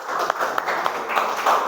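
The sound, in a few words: applause for group 1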